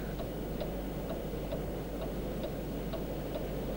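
A clock ticks steadily at an even pace, about two beats per second, each tick crisp but fairly faint over a constant low hum of room noise.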